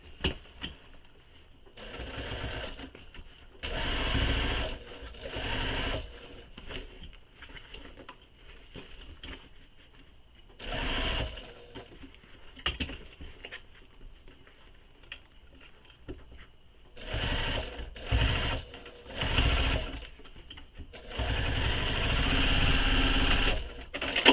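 A sewing machine stitches a side panel of a fabric bag on a flatbed machine without a free arm. It runs in close, rapid mechanical bursts of varying length, with short quiet pauses between runs and a longer stretch of stitching near the end.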